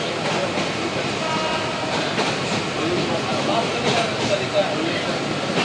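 A train pulling into a station on the Birbhum line in India, a loud, steady rumble with faint clattering, continuous and close throughout.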